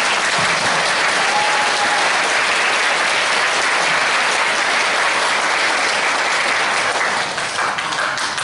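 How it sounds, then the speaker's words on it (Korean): Loud, sustained applause from an audience at a Christian police mission praise competition in Incheon, a dense wash of clapping and crowd noise that carries through the full stretch without speech. "힘찬 격려로 격려의 박수를 해주시기 바랍니다"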